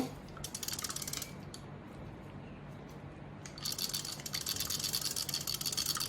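Mechanical clicking and whirring bursts come from a Penn Senator 113H fishing reel, quiet and close, with a busy stretch, a calmer pause in the middle, then another run of rapid clicks.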